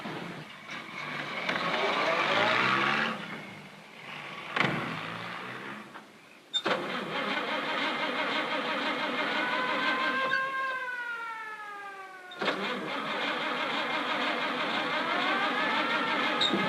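Car starting up and pulling away in a 1940 radio drama, with a motor that cranks, idles, then revs and whines as it drives off, fairly close and steady, with no talking over it.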